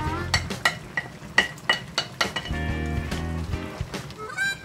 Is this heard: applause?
no